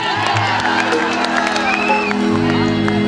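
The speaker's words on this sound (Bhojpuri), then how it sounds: "एक बार हाथ उठा के जोरदार ताली बजा के बोलिए जय माता दी" A large crowd at an outdoor devotional stage show during a local festival cheers, whoops and shouts with scattered clapping. The roar is loud, dense and steady, and voices rise above it throughout.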